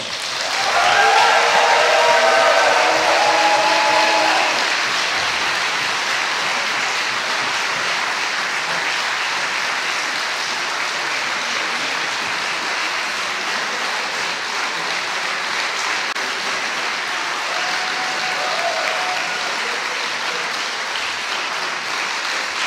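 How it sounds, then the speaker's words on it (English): Sustained applause from a crowd honouring the medalists at the Swordfish 2017 HEMA open longsword finals, loudest in the first few seconds with a brief tonal sound over it, then steady clapping holding for the rest. "Give them one more round of applause."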